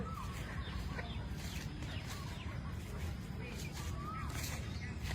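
Faint chicken clucking in the distance in a public park around 6:30 in the morning, over steady outdoor background noise and birdsong, with occasional soft calls scattered through.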